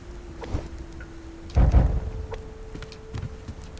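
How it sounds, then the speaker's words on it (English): Thunderstorm with steady rain hissing close by, broken by a sharp nearby thunder crack that booms and rumbles for about half a second, with a faint steady hum running beneath and no talk. "it's actually a good storm going on right now"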